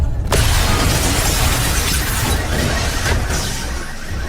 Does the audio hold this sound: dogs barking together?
no